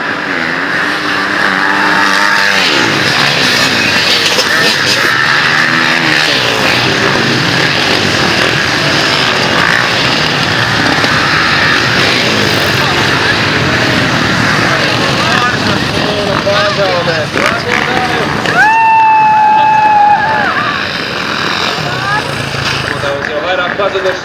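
Motorcycle engines buzz and roar at the start of a Master class skijoring race in Cēsis, loud and continuous, with a commentator talking over them and crowd noise in the background.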